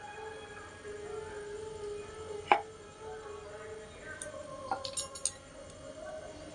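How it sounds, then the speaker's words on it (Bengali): The back of a spoon cuts through rolled-out samosa dough on a board with a few sharp, isolated taps: one clear knock, then a short cluster of lighter clicks over a quiet hum. "দিয়ে চামচের পিছন দিয়ে আমি এটা কেটে নেব"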